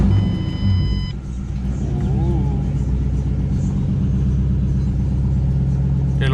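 Ford Mustang with the 3V engine idling steadily after a ticking-noise fix, a continuous low rumble close by, with a brief electronic beep at the start and a voice speaking over the engine.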